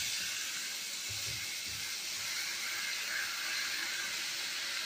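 Steady sizzling hiss of onions sautéing in a hot pan, continuous and even, with faint low clatter near the start.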